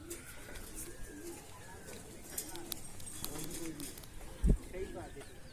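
A pigeon coos softly and repeatedly from nearby on a rooftop, low gentle calls over quiet outdoor ambience with a brief thump near the end.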